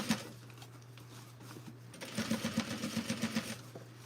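A sewing machine stitches through stacked waistband layers and seam allowances, starting with a steady hum, then a quick run of rhythmic needle thumps near the end, close and moderately loud.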